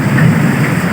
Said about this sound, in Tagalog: Ayaw pa rin lumubay ng ulan.